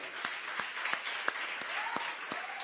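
A church congregation applauds during a sermon, giving a dense, even wash of clapping with a few sharper claps standing out at regular intervals.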